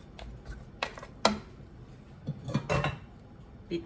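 A big pot of Thai bamboo shoot curry with chicken and fermented fish is stirred, giving irregular metallic clanks and scrapes of a utensil against the pot, fairly close with quiet gaps between strokes.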